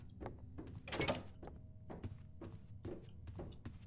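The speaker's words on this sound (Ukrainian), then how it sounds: "Щось там стукає." Knocking and thudding inside the Roblox horror game Doors, a string of sharp, irregular knocks and thumps spread over a few seconds, fairly faint and with no talk over them.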